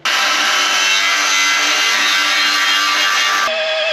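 A power drill bores through thick material while building a chassis, giving a loud, steady grinding whine that runs for about three and a half seconds before the pitch shifts and the tone settles.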